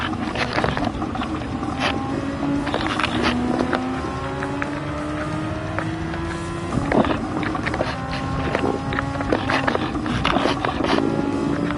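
F1 race car engine in Gran Turismo 7, a loud high-pitched whine rising and falling through gear changes as the car is thrown hard into corners, with no talk.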